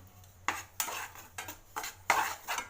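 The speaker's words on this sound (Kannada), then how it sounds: "ಸಣ್ಣಗೆ ಹುರ್ಕೊ, ಲೋ ಫ್ಲೇಮ್ ಇಟ್ಟು ಹುರ್ಕೋಬೇಕು" Fine Bombay semolina (chiroti rava) being stirred while it dry-roasts in a pan over a low flame, heard as a series of irregular scraping, clinking strokes of the spoon against the pan, close and alone.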